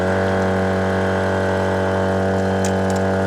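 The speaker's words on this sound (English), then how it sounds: "we're going to turn the compressor on" EZ Flate Air Command tire compressor running at a constant level, a loud steady mechanical drone with a tonal hum and no pauses, with faint clicks near the end.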